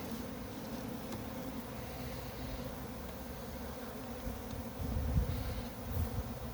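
Honeybees hum steadily around an opened hive during autumn winter preparation, a dense close buzz that swells slightly near the end, with no voices.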